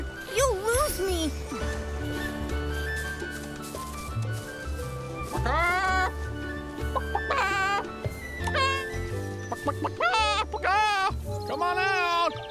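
An old man in the video game Infinity Nikki imitates a chicken with his voice, sending out repeated loud bursts of clucking and squawking, some of them bleat-like, over a steady game music bed.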